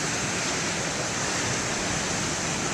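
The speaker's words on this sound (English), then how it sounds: "Every time I come over here and videotape big waves" Big ocean waves at Beavertail Lighthouse roar in a constant broad wash of surf, loud and steady with no voices.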